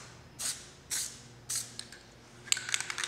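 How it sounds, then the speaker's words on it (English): Three short hissing bursts of aerosol spray paint onto car mirror caps, close and fairly soft, followed by a quick series of faint clicks and sputters. "We'll just spray it here."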